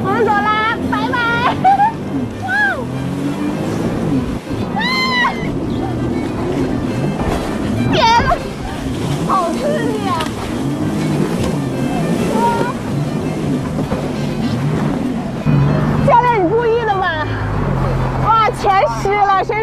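A jet ski rides over sea waves off Yangma Island near Yantai. The engine drone and splashing surf run steadily throughout, mostly under excited close-up talk.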